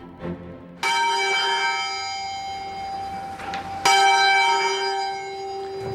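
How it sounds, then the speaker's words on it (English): Two loud strikes of the Bow bells in London a few seconds apart, each ringing out with long resonant overtones that slowly decay, no voices. "These are the Bow bells, arguably the most famous bells in London."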